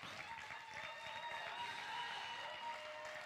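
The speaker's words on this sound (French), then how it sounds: "On l'applaudit très fort." An audience at the JVF 2024 final claps for a selected candidate, a steady wash of applause heard faintly and at a distance throughout.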